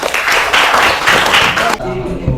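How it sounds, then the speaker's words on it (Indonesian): A burst of applause from schoolchildren in a classroom, many small hands clapping together for under two seconds, loud and close, then a voice speaks as it stops. "Kita tepuk tangan untuk semuanya ya."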